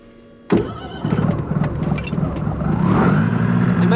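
A light aircraft's propeller engine starts abruptly before takeoff, catching with a sharp burst and then settling into a loud, steady rumbling idle that grows slightly stronger.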